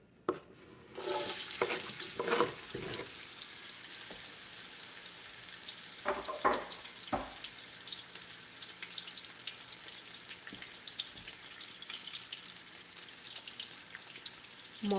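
Chopped onions hit a hot pan for Nigerian coconut rice and settle into a soft, steady sizzle, with a few stirring clatters early on. The frying stays fairly quiet and continuous throughout.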